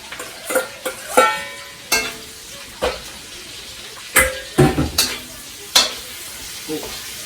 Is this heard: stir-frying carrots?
yes